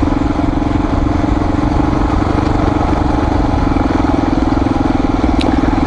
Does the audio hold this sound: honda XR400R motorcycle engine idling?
yes